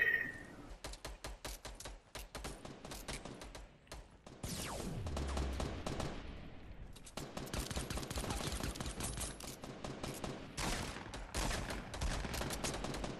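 Pistol and other gunfire in a Fortnite match, rapid repeated shots in dense clusters separated by short pauses, moderately close and without talk over them.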